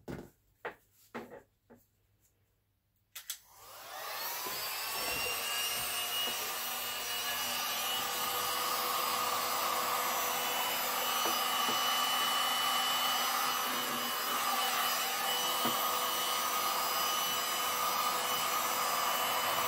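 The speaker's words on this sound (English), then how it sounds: "We'll do the heat gun first." Heat gun blowing over a resin galaxy painting, a faint few knocks and handling sounds, then the gun switches on to a constant hissing, whirring airflow that runs steadily to the end.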